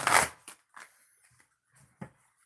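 Oracle cards being shuffled by hand, two short bursts of riffling, the first louder at the start and a second brief one near the end, quiet in between.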